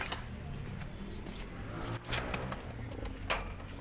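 Pigeons coo faintly in the background, soft low calls over a steady outdoor hum, with a few brief louder rustles and clicks nearby.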